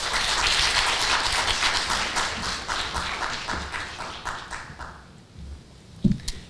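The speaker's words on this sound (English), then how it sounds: "One more applause." Applause from a conference audience welcoming a plenary speaker, dense clapping that fades over several seconds and ends with a single louder tap.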